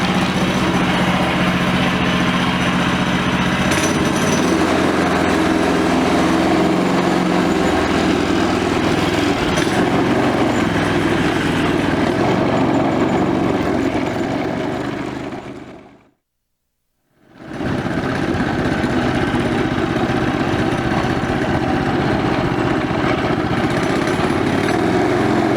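On a Briggs and Stratton buckboard flyer, a Predator engine runs at a steady, loud, close drone, cuts out for about a second, then comes right back to the same even idle.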